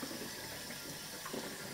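Cold water runs steadily from a kitchen tap into a pan, replacing boiling water used for cooking Scotch eggs, a continuous soft rushing hiss with no talking.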